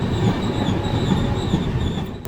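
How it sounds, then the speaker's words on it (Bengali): A Danapur–Secunderabad superfast express passes, heard from a train door as a loud, steady rumble of wheels and carriages with faint metallic squeal, no voices. "এবার আমাদের সাথে দেখা হচ্ছে দানাপুর থেকে সেকেন্দ্রাবাদগামী 127-92 দানাপুর সেকেন্দ্রাবাদ সুপারফাস্ট এক্সপ্রেসের সাথে"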